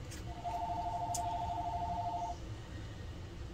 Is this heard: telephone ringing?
yes